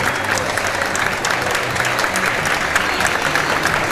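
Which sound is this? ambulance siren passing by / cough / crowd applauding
crowd applauding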